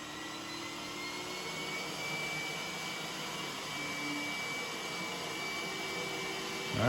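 A robot vacuum cleaner runs a two-pass suction test, giving a loud, steady whirring drone with a faint high whine that holds unbroken throughout.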